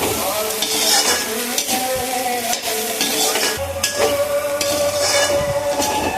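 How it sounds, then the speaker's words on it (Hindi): Spiny gourd (khekhsi) vegetable frying with coriander, ground chilli and garam masala in a pan, giving a steady, loud sizzle with stirring scrapes throughout, no talking. "देखिए हमारा सब्ज़ी अच्छे से भून गया है"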